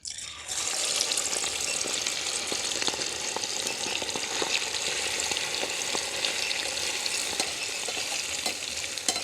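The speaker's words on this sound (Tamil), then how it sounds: "எண்ணெய்களே கொதிச்சிட்டது உப்பு மஞ்சள் பிரட்டி வச்சுருக்கிற இறால் நாங்கள் போடுவோம்" Prawns coated in salt and turmeric fry in hot coconut oil, giving a loud, steady sizzle and crackle with sharp pops scattered throughout.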